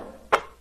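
A lone basketball swish with its high end cut off gives one brief, soft percussive burst in a quiet moment.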